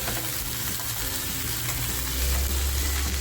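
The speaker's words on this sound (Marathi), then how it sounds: "सुरमईचा पीस आहे ना तो आता छान फ्राय झालाय" A surmai (kingfish) piece frying in a banana leaf without added oil, a dense steady sizzle with low rumble, close and continuous.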